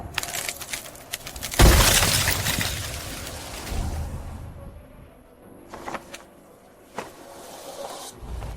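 A loud burst of shattering hits at once and trails off into scattered crackling debris, with a few smaller sharp impacts following in a dramatic fantasy-action setting.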